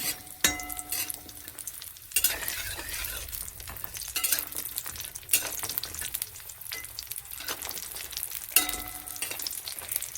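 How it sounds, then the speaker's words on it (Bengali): Lentil dumplings (bori) frying in hot oil, a continuous close sizzle punctuated every couple of seconds by sharp stirring clinks and scrapes of a spatula against the pan. "তেলটা গরম হয়ে গেছে, বড়িটাকে ভেজে নেব।"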